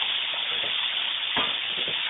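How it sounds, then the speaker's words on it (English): Chopped onion frying in a pan, a steady close sizzle and hiss running throughout with a few soft stirring scrapes. "We have 1 chopped onion here, and again we just put straight in."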